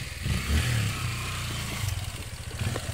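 Motorcycle engine revving during a trail ride in Huruna, Nias, a steady mid-pitched drone with throttle swells, close and fairly loud, with no talking.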